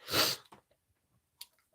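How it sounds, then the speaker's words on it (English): A single loud, close sneeze bursts out at the start, followed by a short exhale and a faint sniff. "I'm going to sneeze."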